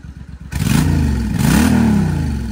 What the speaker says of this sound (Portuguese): Dá uma aceleradinha aí, filho, pro pai ver, vai.